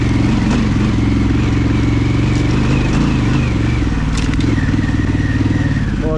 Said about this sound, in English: the bike is just cruising up here in first gear